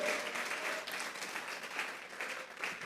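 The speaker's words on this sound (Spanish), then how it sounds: "démosle fuerte esas palmas al Señor de la gloria" A church congregation at a Sunday service breaks into loud, steady clapping, a dense burst of many hands heard up close for a few seconds.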